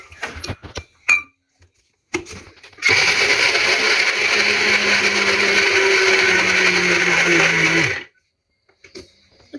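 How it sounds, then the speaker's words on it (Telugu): A mixer grinder grinding peanuts for laddu: a few clicks and brief knocks, then a loud, steady, close whirring for about five seconds that cuts off abruptly. "పల్లీలు గ్రైండ్ చేద్దాం"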